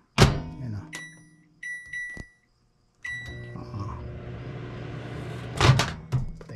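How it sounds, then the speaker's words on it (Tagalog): A microwave oven is switched on and runs with a low steady hum, preceded by loud door thunks and beeps from the controls. "itong kanyang microwave, umaandar din po yan"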